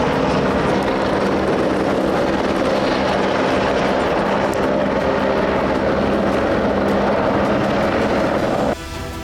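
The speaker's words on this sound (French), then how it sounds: "on a justement vu quelques-uns de ces hélicoptères survoler la" Helicopters fly over the citadel of Forcalquier, a loud continuous rotor and engine roar that fills the whole stretch at steady volume before dropping off abruptly at the very end.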